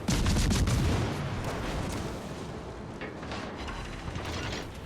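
Naval gunfire and battle noise in World of Warships Legends, with a battleship firing from the port side: a dense, loud rumbling wash of booming shots and mechanical clatter continues throughout, heaviest at the start.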